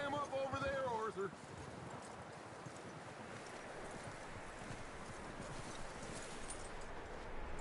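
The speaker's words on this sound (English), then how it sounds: "That looks like a decent horse." Horse hooves clip-clop steadily in Red Dead Redemption 2, with a brief musical or voice-like tone at the start, moderately close under faint game ambience.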